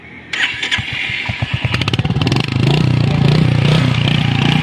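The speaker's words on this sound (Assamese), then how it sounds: "গাইজ বাইকখনৰ চাউণ্ডটো কিমান ধুনীয়া, মই আপোনালোকক শুনাই আছোঁ, শুনক" A Royal Enfield Hunter 350 motorcycle cranks with a rapid clatter, catches, and settles into a loud, close, steady engine thump.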